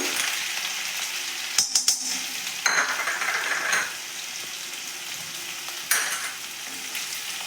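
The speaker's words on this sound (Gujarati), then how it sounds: "હવે આપણે તેલ આવી ગયું છે એમાં આપણે નાખીશું લસણ અને આદુની પેસ્ટ" Garlic and ginger paste fries in hot oil with a bright, steady hiss, punctuated by a few metallic clinks and bursts of stirring in the pan.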